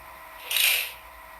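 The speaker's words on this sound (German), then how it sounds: "So, auch hier gibt es Türen-Schließ-Sounds." Door-closing sound effect from a Minitrix model train, a single brief hissing whoosh that swells and fades within half a second, close and alone.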